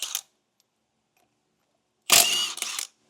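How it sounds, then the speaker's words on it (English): A short burst from an impact wrench loosening wheel lug nuts on a trailer or vehicle, loud and close, with a brief rattling hammer after a stretch of silence. "we'll get all these lug nuts broken loose"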